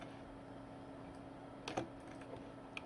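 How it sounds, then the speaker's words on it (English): Light tapping on a projected virtual laser keyboard linked to a smartphone, a few soft, scattered key taps at close range over a quiet background hum. "wherever you type, you're typing on your keyboard on your smartphone"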